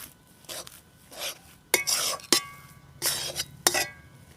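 A spoon stirs flattened rice (chira) snack in a pan, giving a series of dry scraping, rustling strokes with occasional sharp clinks against the metal, fairly close and moderately loud with no talking.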